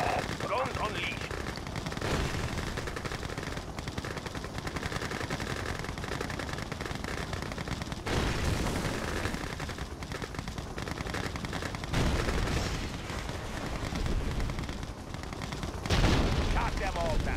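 Rapid machine-gun bursts and weapon fire from a Red Alert 2 urban skirmish, loud and dense throughout, with explosive booms and unit voice lines mixed in.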